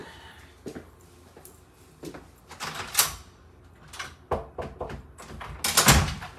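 A door opens in a home workshop, a few knocks and thunks of the handle and frame, then a louder creak and swing near the end, fairly close and with no talking.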